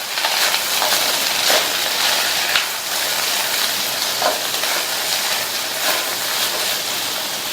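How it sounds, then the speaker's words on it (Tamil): Half-cooked brinjal stir-fry with salt is tossed in a pan, giving a steady soft sizzle with scraping strokes of stirring at a fairly even pace, close up. "உப்பு சேர்த்துட்டு நல்லா ஒரு தடவை மிக்ஸ் பண்ணி விட்டுக்கலாம்"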